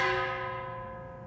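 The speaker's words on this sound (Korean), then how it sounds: "징소리" A gong struck once, a bright metallic ring with layered overtones that decays smoothly and lingers, heard alone and fairly close.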